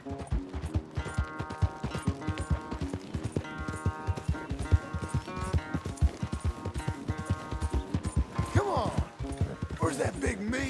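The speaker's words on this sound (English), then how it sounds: "That big mean horse." A horse galloping in Red Dead Redemption 2, steady rhythmic hoofbeats running throughout, with music chords and brief vocal sounds over the hooves.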